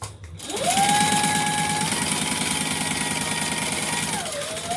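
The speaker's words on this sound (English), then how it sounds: "we're going to sew across the top" A sewing machine starts up and runs a steady rapid stitch across the top edge of a pocket, its motor whine holding for several seconds before winding down, close and alone.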